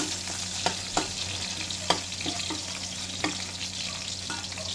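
Ginger sautés in plenty of oil in a pan for beef tripe paklay, a steady soft sizzle punctuated by several distinct spatula scrapes and taps against the pan.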